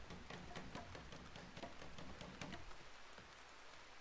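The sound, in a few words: rain in a video game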